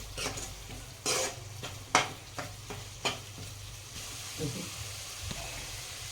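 A spice paste for chole gravy roasts in a pan over medium heat with a soft sizzle. Sharp clinks and scrapes of a spoon on the pan come at irregular moments, and no one talks.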